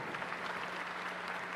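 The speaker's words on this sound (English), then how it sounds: "a round of applause for all our speakers today" Graduation audience at a high school ceremony giving a round of applause for the day's speakers, a steady, fairly soft wash of clapping from a crowd throughout, with no talking over it.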